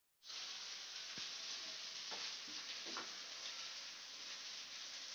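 Carrots and beans frying together in a wok for homemade fried rice, a loud continuous sizzle with occasional stirring scrapes, close and unbroken by speech.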